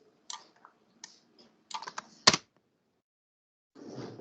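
Typing on a computer keyboard, a few scattered key presses and a short burst of clattering taps, close and fairly quiet, followed by a pause and a brief soft rustle.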